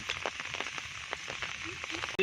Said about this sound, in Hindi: बारिश कंटिन्यूसली अभी तक चल रही है।